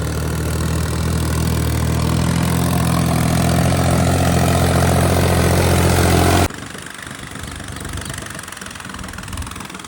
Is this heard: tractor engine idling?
yes